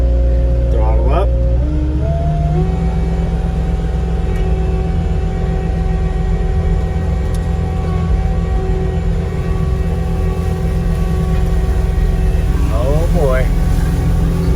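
Engine of a snow-clearing machine with a newly replaced hydraulic motor throttles up and runs loud and steady, a continuous droning roar with some shifts in pitch, heard up close and alone.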